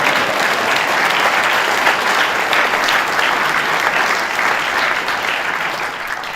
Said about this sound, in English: There's a sign in back that says applause right now.